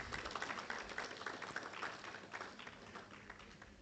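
An audience at a national dialogue on the Office of the Special Prosecutor breaks into applause, a fairly faint, steady patter of many hands clapping that gradually tapers off.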